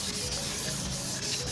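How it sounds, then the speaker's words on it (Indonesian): A yellowed car headlight is rubbed with sandpaper and polishing compound, making a steady, close scratchy scrubbing with quick back-and-forth strokes and no voices. "ini udah kita gosok kurang lebih 3 menitan ya"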